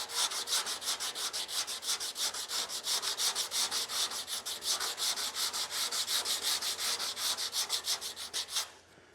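Body filler on a pickup truck's roll pan is sanded by hand in steady, rapid back-and-forth strokes, a close, even scratching rhythm that continues without pause before stopping abruptly at the end.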